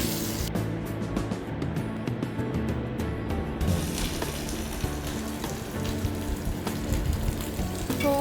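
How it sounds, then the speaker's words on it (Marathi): Onion frying in a pan for mutton handi, a steady dense sizzle and crackle running the whole time, close and fairly loud with no talking. "कांदा भाजून घ्यायचा"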